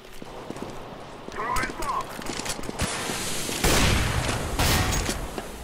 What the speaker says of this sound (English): Oh shit, that's a shotgun.